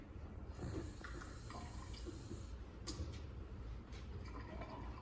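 Water runs from a tap in a hospital medication room, a faint, steady splashing stream lasting several seconds with a few soft clicks and clinks around it.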